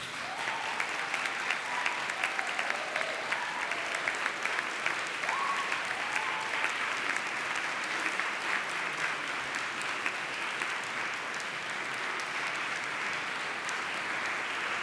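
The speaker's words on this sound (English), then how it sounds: "And now please give your family and friends a round of applause." Graduates at a University of Manchester graduation ceremony give a sustained round of applause for family and friends, dense hall clapping at an even level throughout, fairly distant and without voices on top.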